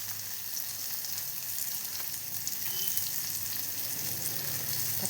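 Sliced onions sizzle steadily in hot oil in a pan while chena roast is being cooked, a close, even crackle with light stirring and no speech.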